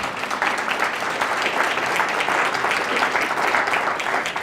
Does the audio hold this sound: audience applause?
yes